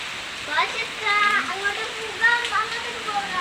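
A dense wash of heavy rainfall hisses continuously, while a voice speaks on top of the downpour.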